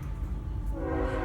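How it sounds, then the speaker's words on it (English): A train rolls past outside with a low rumbling drone, then its horn comes in as a loud, sustained tonal blast partway through, near and continuous, with no voices. "Sorry about the train."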